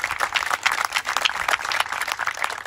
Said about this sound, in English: I think we need another round of applause for the Lieutenant Governor